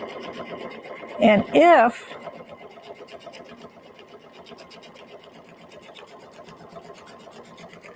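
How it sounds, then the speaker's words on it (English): A Brother Aveneer sewing machine stitches quilted fabric in a steady, close mechanical whir that runs the whole way, with a brief spoken word near the start. "So I'm going to come over here and I'm going to sew here."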